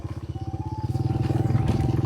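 Motorcycle riding along a rural village road in the rainy season, its engine putting out a close, rhythmic, throbbing putter that builds slightly louder as it goes.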